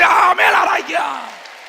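A church congregation lets out a loud, brief burst of shouted voices that swells for about a second, then trails off into a fading drawn-out cry.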